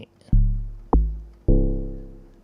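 Three deep, resonant wooden log drum hits, each ringing out with a pitched tone, evenly spaced and played alone.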